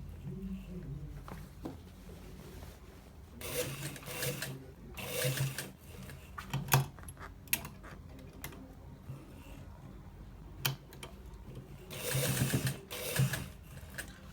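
Sewing machine stitching a designer shirt with buttons, running in several bursts of whirring stitches between quieter pauses, fairly close and moderately loud.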